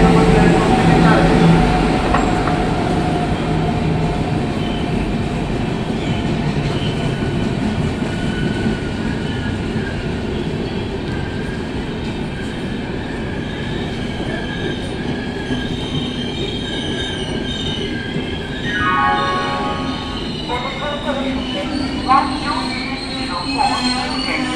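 New Delhi–Howrah Poorva Express pulls into Asansol Junction with a steady loud rumble of wheels, brake squeal rising near the end and faint clatter, with platform announcements and voices mixed underneath.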